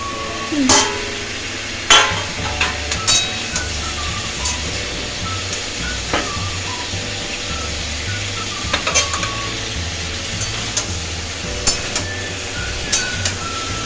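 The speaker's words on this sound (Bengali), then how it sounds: "আর হলুদ দেবো দিয়ে এটা ভেজে নেব ভালো করে" Vegetables frying with turmeric and salt in a pan, a continuous close sizzle punctuated by repeated sharp metallic clanks and scrapes of a spatula against the pan, with a low hum underneath.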